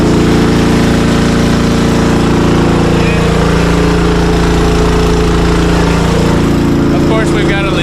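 A Honda engine water pump runs steadily at close range, a loud, continuous small-engine drone with no pauses, while a voice is heard over it.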